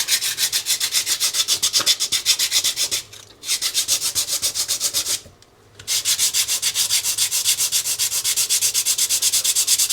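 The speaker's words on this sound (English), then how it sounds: "epoxy tends to clog sandpaper" Sandpaper worked over cured epoxy during a stone countertop repair: fast, even back-and-forth strokes close to the microphone, stopping briefly twice before resuming.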